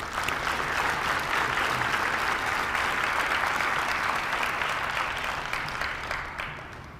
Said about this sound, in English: So I really want to give them a round of applause.